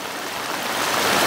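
Water rushes and gurgles at the Bhalu Khola stream source, a steady close wash of noise that grows slightly louder toward the end.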